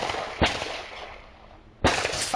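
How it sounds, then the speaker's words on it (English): Two sharp gunshots on a Fargo street around 1:30 in the morning, picked up by a home security camera: distant, separated cracks about a second and a half apart over steady background hiss. "5 gunshots rang out on 16th and a half Street in Fargo around 1:30 Saturday morning"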